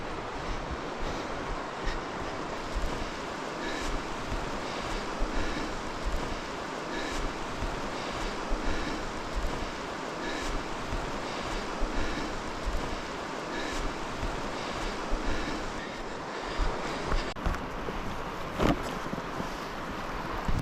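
The Malhuer River's current rushes steadily beside a walking path down to the water, a continuous broadband wash mixed with wind buffeting the microphone, with no voices.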